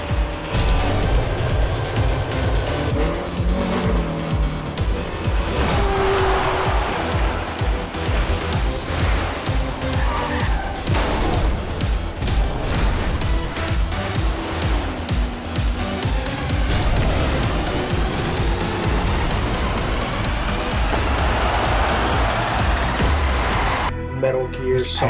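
Rocket League cars driving, boosting and skidding, with engine whine and impacts running continuously and loudly, mixed under game music and effects.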